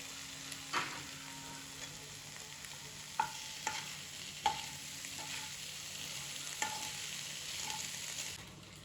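Pasta gets stirred into frying masala with cabbage in a pan for chicken pasta, a soft steady sizzle broken by several spoon clinks and scrapes, no talking.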